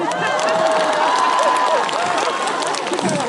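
Audience clapping and cheering at a trot concert, a dense steady wash of crowd noise filling the whole stretch, with some voices mixed in.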